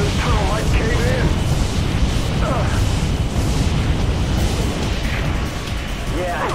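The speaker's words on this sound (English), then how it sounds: "Any more explosions in this tunnel might cave in." Rumbling blasts and heavy booms in a tunnel in the video game Firefighter F.D.18, a loud, continuous low-end roar with crackling bursts. A speaking voice and faint whistling tones sit over the din.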